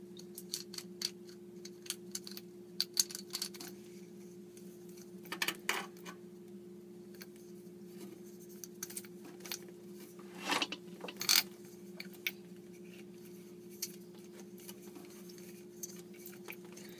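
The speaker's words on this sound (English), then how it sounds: "start working that seal up and then chase that with the fixing nut" Nut being turned by hand onto the seal and fitting under a UCE 9000T sink unit, heard as soft scattered clicks and light ratcheting scrapes over a steady low hum, close and fairly quiet with no talk.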